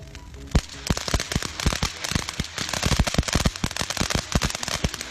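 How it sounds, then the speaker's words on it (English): Fireworks and firecrackers set off outdoors at night during a large family gathering in Wuhan, a rapid irregular barrage of loud sharp bangs and crackles lasting throughout, with no talk over it. "Let's go to play some fireworks."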